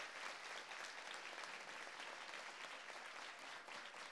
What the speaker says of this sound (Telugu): చప్పట్లు మామూలుగా ఉంటే ఏం లాభం ఏం లాభం చెప్పండి గట్టిగా ఉండాలి కాస్త